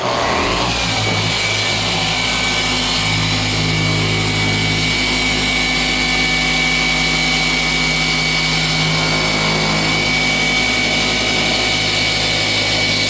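A car paint polisher fitted with a microfiber finishing disc and a free-spinning washer mod runs at low speed on a Tesla Model 3, a steady loud motor whine and hum throughout with no talk.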